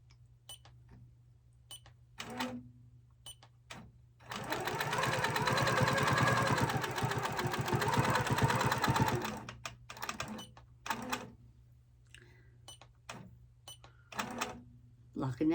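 A sewing machine stitches quilting lines over hand embroidery on fabric, a steady mechanical run of about five seconds with faint taps before and after, while a person talks.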